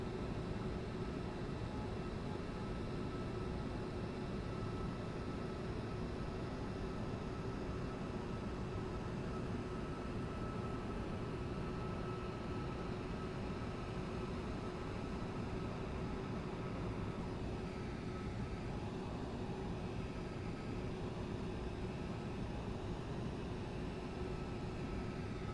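Inside a Boeing 747 descending to land in a flight simulator, a steady low engine and airflow drone holds throughout at moderate level, with no talk.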